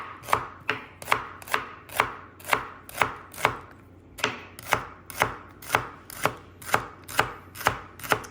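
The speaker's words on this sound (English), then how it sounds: "Let's just slice the other half." Half an onion sliced with a knife on a board: a steady run of about twenty sharp, crisp chops at an even rhythm, close and clear with no talking.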